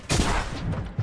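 Shotgun blasts in a Fortnite competitive match, a dense burst of loud, close gunfire filling the whole second, with a fresh shot right at the end.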